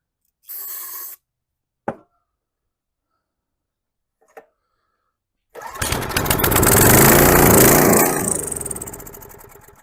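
A tiller's small engine, running on half choke, gives a few brief sputters and knocks separated by silence, then fires and runs loudly, surging up and holding a rough roar.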